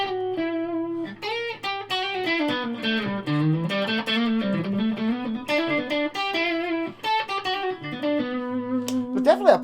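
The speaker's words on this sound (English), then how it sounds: "But a wee bit of low distortion." Yamaha AEX520 guitar played through an amp with light, gritty low distortion, a melodic line of sustained notes ringing out fairly loud.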